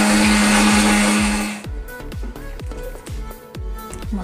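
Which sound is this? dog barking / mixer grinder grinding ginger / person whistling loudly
mixer grinder grinding ginger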